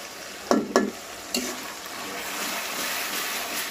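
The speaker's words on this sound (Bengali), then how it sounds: "মশলাটা কষিয়ে নিব 1 মিনিট মতো।" Spice mix sautéing in a pan for beef kofta curry, a steady sizzle with a few scrapes and knocks of a spoon stirring early on, close and clear, no talking.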